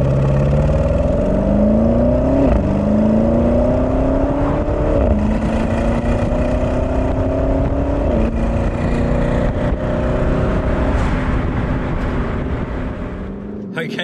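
A Porsche Cayenne Turbo GT, the 631 hp SUV, drives along with a steady loud engine drone that rises in pitch through several gear changes, each marked by a brief drop, and people talk over it.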